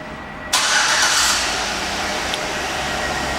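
A 2008 Chevrolet Avalanche LTZ 4WD engine remote-starts with a sudden loud crank and catch, then settles into a steady, close idle.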